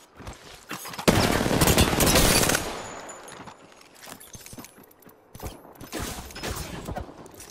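Rapid gunfire crackles in a video game, a loud automatic burst followed by quieter scattered shots and mechanical clicks, then another burst near the end.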